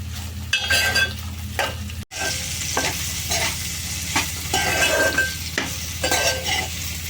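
Bitter gourd pieces frying in a pan sizzle steadily up close while a spatula scrapes and stirs them in repeated strokes, with occasional clinks against the pan.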